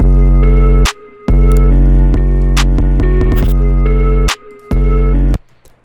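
A heavily distorted, gritty 808 bass plays a series of sustained notes with short gaps between them, loud and up close, with no other instruments.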